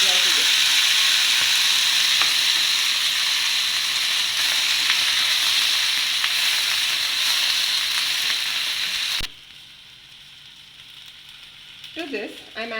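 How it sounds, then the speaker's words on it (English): Cut brinjal hits hot oil in a pan for a brinjal stir fry, giving a loud, steady, broadband sizzle that fills most of the stretch before cutting off abruptly, followed by quiet with a few faint clinks. "I have added some oil in the pan and I am adding the cut brinjal to this"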